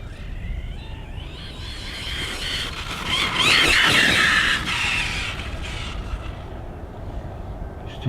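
A Losi Super Rock Rey RC truck running on 8S at full throttle over a gravel path, its motor whine loud and steady, swelling into a high screaming peak midway with gravel crunch beneath, no talk.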